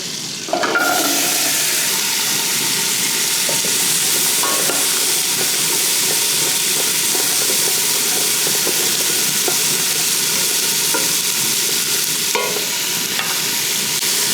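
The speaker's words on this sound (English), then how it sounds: "So over medium heat, we're gonna drop in onions, carrots, celery." Onions, carrots and celery sautéing in butter over medium heat, a loud continuous sizzle right up close with a few light scrapes of stirring, no voices.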